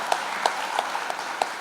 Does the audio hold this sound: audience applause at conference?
yes